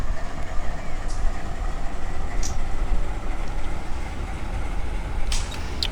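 A train locomotive in the Run 8 train simulator runs with a steady, dense rumble for the whole stretch, with faint higher clicks and squeals rising occasionally above it and no talk.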